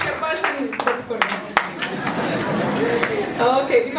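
A church audience at a semi-Christmas gathering claps for themselves; scattered, uneven hand claps and murmured chatter rise and fall briefly rather than building into full applause.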